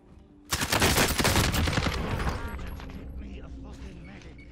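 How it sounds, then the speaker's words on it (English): Gunfire in Call of Duty: Warzone, a sudden loud burst of rapid shots that trails off into scattered cracks and fading echoes. "That's why he's shooting from like 200 meters away and managing to get these kills."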